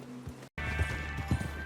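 Horse hooves clip-clop at a brisk, uneven rhythm, close and fairly soft, as riders set out in Red Dead Redemption 2. A brief gap of silence interrupts the steady trotting.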